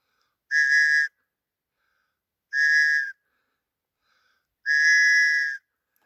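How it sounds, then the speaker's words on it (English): Three loud, sustained whistle blasts, each about half a second or longer, separated by silent pauses of a second or more, as a rescue signal. "3 long, loud blasts on the whistle"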